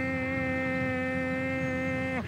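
A voice imitates a llama with a sustained buzzing, nasal hum held steadily for about two seconds, loud and close, then sliding down abruptly at the end.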